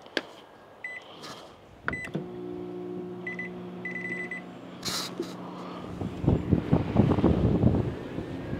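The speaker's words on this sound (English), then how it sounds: "we got the microwave going." A microwave oven powered by an ALLPOWERS S2000 portable power station runs with a steady electric hum and faint whine, joined by a few short beeps and clicks, then louder rustling and clattering toward the end.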